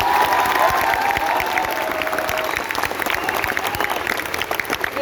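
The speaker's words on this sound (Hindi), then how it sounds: "एक बार जोरदार तालियां हो जाए।" Strong, continuous audience clapping follows a stage play about Sir Syed at AMU, steady and dense throughout with light crowd cheering mixed in.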